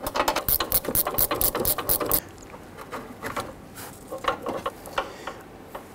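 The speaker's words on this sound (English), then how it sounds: "You can use your ratchet or gear wrench for the J bolt here." A ratchet or gear wrench clicks while removing a J bolt from a 1997–2006 Jeep Wrangler front fender, a fast run of loud, evenly spaced clicks that turns to quieter, slower ones.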